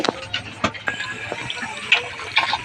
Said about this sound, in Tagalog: Lagyan natin tubig kasi gusto nila sila mag-inom.